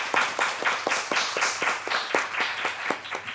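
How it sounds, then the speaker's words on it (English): An audience applauds a panel discussion at an evening Hispanic Heritage Month event, with steady, moderately loud clapping from a room full of people, sustained evenly without voices. "So a round of applause for our panel discussion this evening."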